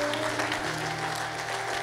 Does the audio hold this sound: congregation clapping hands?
yes